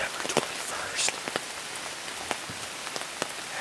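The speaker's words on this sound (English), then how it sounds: "As you can hear, probably hear, it's raining and windy." Rain patters steadily on a surface with scattered louder drops, a constant hiss suggesting wind-driven rain, no voices.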